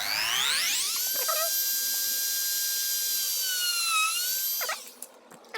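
A small 1.5 mm bit drills a hole for a phone holder's light mount, whining at a steady high pitch for about four seconds, then slowing and stopping close by, with no talk.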